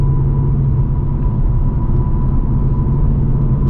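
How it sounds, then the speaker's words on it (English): Ford Mustang GT holding a steady, loud low engine rumble with a faint whine while its tires are spun to clean them, continuous and close with no talking. "just to brush the tires off a little bit, brush the cobwebs off the tires"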